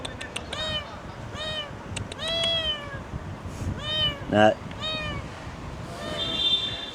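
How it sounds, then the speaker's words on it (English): A cat hidden under a board inside a school, with its kittens nearby, gives a series of clear, close meows, some drawn out and rising. A person talks quietly between and over the calls. "Cat's in the school having kittens."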